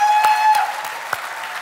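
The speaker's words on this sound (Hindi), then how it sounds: "तो एक बड़ी सी तालियां बजा दें यार." A brief burst of audience applause at a comedy awards show, a few sharp claps fading out quickly under a steady hum.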